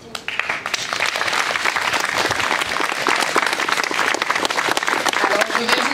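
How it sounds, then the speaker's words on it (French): Crowd at a commemoration day for victims of colonial slavery in Creil applauds outdoors, dense continuous clapping from many people with a few voices underneath. "la ville de Creil mérite vos applaudissements"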